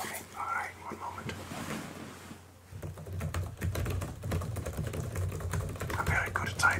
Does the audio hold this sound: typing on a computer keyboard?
yes